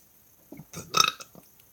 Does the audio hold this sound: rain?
no